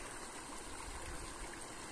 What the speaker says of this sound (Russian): Речка какая приятная, даже с таким как бы водопадом немного.